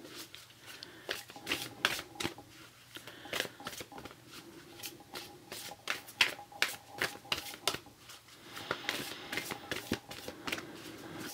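Tarot cards being shuffled by hand, a soft, close riffling and slapping that comes in irregular bursts with quiet gaps between them.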